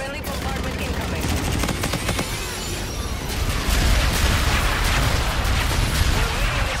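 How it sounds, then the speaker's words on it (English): Artillery bombardment in a Call of Duty: Infinite Warfare multiplayer hardpoint match: a loud, continuous barrage of rumbling blasts and crackling gunfire that thickens toward the end, with no pause. "Friendly bombardment incoming."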